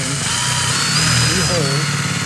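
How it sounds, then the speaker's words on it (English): Power drill boring holes with a 13/64 inch bit fitted with a stop collar into the upper belt line of a Monaco motorhome, a steady high whine running throughout with a voice talking over it. "we are just drilling"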